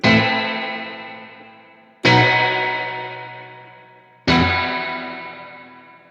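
Chime-style staccato guitar chords from the E-Instruments Desolate Guitars library ring out three times, each a bright, distorted strike with chorus that decays slowly before the next hit.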